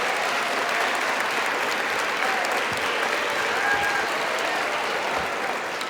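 Steady applause from a sizable crowd, many hands clapping continuously at an even level for several seconds.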